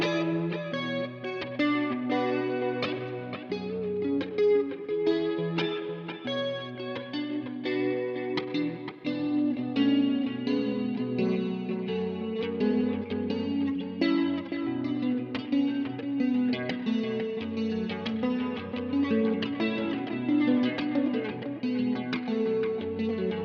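Electric guitar runs through a Hotone Ampero Mini on a dreamy effects-laden patch with distortion, chorus and reverb, playing a sustained, layered chord progression that rings out evenly for over twenty seconds without any voices.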